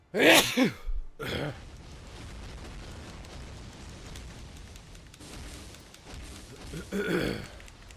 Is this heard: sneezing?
yes